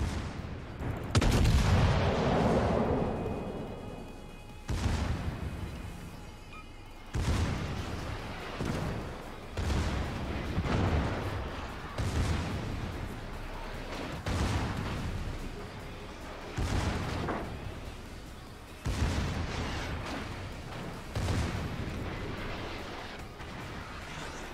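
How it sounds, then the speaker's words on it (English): Warship main and secondary guns fire in a World of Warships naval battle, a loud sequence of heavy booms repeating every couple of seconds, each with a rumbling tail, with no voices over it. "Secondaries and main guns over to the Fletcher now."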